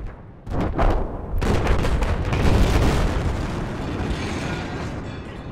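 A Levolution destruction event in Battlefield 4 sets off a huge explosion, a sudden loud boom followed by a second blast and a long roaring rumble of debris that fills the whole stretch.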